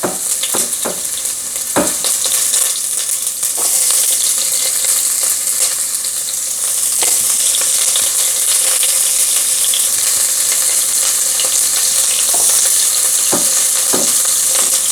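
Shallots frying in a hot pan for seafood fried rice, a loud continuous sizzle with occasional sharp clicks and scrapes of stirring, heard alone without talk.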